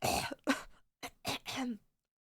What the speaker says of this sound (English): What a weird cough.